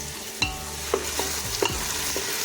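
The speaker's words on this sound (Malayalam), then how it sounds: "നമ്മൾ അരച്ച് വെച്ചിരുന്ന തേങ്ങ ഇതിലേക്ക് ഒഴിച്ചു കൊടുക്കാം" Ground coconut stirred into onions frying in a pan for Kerala-style coconut rice, with a steady sizzle and several sharp spoon scrapes and clinks against the pan, close and alone.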